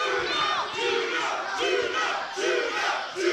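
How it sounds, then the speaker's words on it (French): Crowd at a kickboxing world title bout swells in repeated waves of rhythmic chanting and cheering, loud and rolling in pulses through the arena. "ça commence à réveiller la foule"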